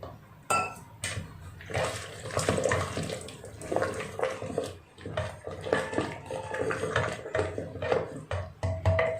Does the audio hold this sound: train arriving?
no